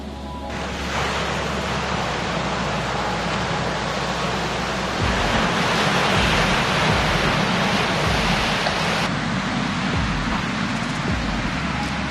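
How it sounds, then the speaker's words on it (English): Waves break continuously against the shore of Lynyard Cay, a loud, steady wash of surf with wind noise, close and unbroken and swelling slightly in the middle. "Breakers on the side of the island."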